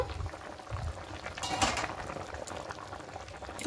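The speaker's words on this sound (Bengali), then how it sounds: "ঝোলটা ফুটতে শুরু করে দিয়েছে" Fish shukto curry with a fish-based gravy boils in a covered pot, a soft close bubbling and gurgling with a brief louder burst of bubbles midway; fairly quiet, no talk.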